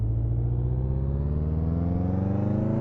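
Car engine from the Reno Piccolo in Car Mechanic Simulator 2018 revving up steadily, pitch climbing smoothly for a few seconds, loud and close with no talking.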